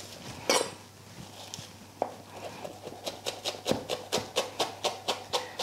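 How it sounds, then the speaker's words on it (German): Parsley and basil are finely chopped with a knife on a board, a few scattered cuts giving way to a quick, regular run of crisp close taps. "Das wird fein gehackt."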